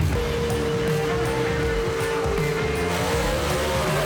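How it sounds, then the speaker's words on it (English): A 1955 Thunderbird and a 1955 Chevy gasser drag racing at Knoxville Dragway, a loud continuous engine roar with rising pitch as the cars accelerate. "This is a hell of a drag race right here, boys."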